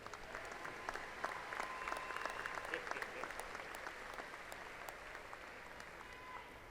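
A commencement audience at a university fall graduation ceremony claps for the new graduates, a steady wash of applause from a large crowd that holds evenly throughout, with no talk over it.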